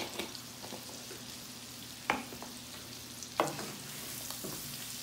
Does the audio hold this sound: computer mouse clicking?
no